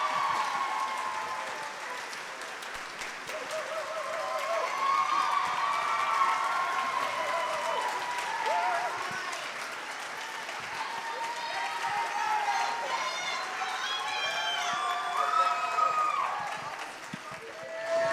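Audience applause for a school choir at a spring showcase, a steady wash of clapping lasting throughout with some cheering, while sustained sung or spoken tones ride over it.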